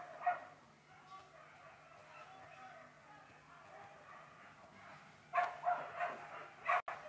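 Whippets at a race in Rotterdam give a few sharp yips and barks near the end, after a long quiet stretch of low background murmur.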